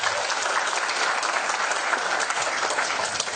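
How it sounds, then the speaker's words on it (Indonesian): Steady, even applause from an audience at an Islamic religious gathering welcoming a cleric, a dense hiss of many hands clapping with no talk over it. "Tepuk tangan untuk beliau."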